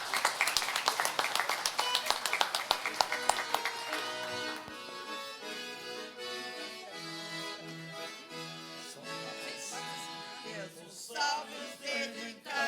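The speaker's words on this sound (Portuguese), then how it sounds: "uma salva de palmas aqui para vocês" Brisk clapping opens a council session in Vila Seca honoring the Divino festival organizers, then fades as sustained tonal music or singing takes over for the remainder.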